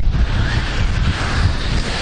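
Steady wind gusting across a microphone on a beach at the Azov Sea, a loud continuous low rumble and hiss that fills the whole stretch with no pause.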